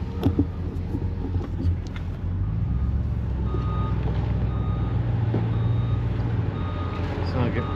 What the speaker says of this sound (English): All right, that semi's leaving now.